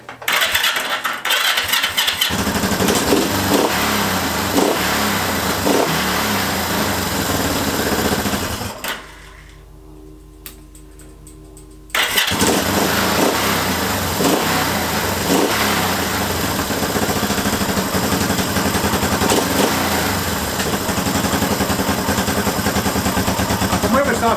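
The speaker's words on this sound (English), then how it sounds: "I've had a little tune at this engine and it starts and runs really quite nicely" A Honda CL350 motorcycle engine freshly tuned, with air cleaners refitted, runs at a steady, even idle, close and loud, cutting out briefly partway through, then restarting and running smoothly again.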